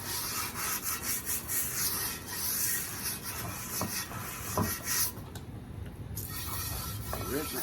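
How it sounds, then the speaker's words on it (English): Steady scrubbing on a well-seasoned black cooking pan gives a close, continuous rasping rub with brief pauses, and faint clinks come partway through. "It's got a good seasoning on it. But I'll scrub it inside and out."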